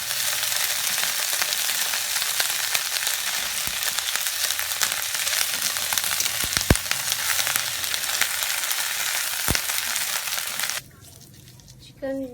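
Ginger garlic paste sizzles loudly and steadily in a hot pan while noodles are being made, a dense crackle lasting several seconds before it drops to a quieter hiss near the end.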